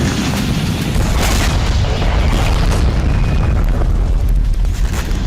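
A heavy, sustained blast from an attack on Crimea near the Black Sea, a loud continuous roar of rumbling explosions filling the whole stretch with no pause.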